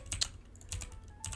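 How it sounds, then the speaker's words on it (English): Sharp clicks from a computer keyboard, heard as a few quick separate key presses in small clusters. They are close and moderately quiet in a still room. "hit B on our keyboard once again"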